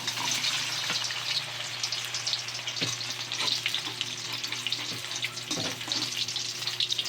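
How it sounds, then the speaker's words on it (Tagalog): Chicken balls frying in a pan of hot cooking oil, a steady loud sizzle with occasional stirring clinks and scrapes, no talking. "hintayin po natin itong kumulo, tsaka po natin ilagay ang chicken balls."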